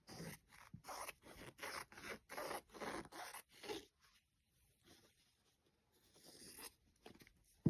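Scissors snip through fabric in a quick rhythmic run of sharp crisp cuts, close and fairly quiet, then trail off into a few softer scattered snips and rustles.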